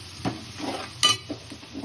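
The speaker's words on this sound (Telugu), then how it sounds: "కొంచెం పొయ్యి మీడియంలో పెట్టి కలుపుకోవాలి" A runner bean curry being stirred in a pan on a stove over medium heat, with a few brief scrapes and clinks of the spoon over a soft sizzle.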